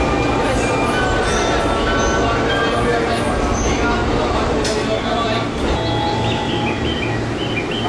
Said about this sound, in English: Would you like to take a ride on this unusual train?